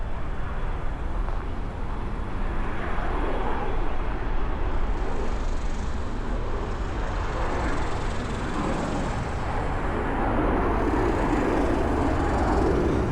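Jet aircraft engines roar overhead in Dallas as a steady, broad rumble that fills the whole stretch at a constant level, with faint street ambience mixed in and no clear talk.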